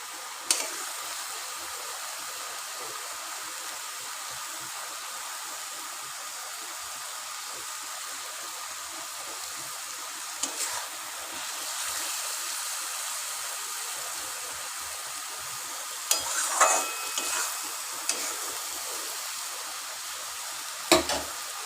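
Ghee sizzles and hisses steadily in a pan with cooking bottle gourd, a soft continuous frying crackle with a few louder spatters and stirring clinks.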